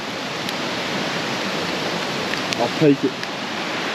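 Loud creek flowing beside a campsite at night, a steady, close rushing hiss of water throughout, with someone speaking briefly over it.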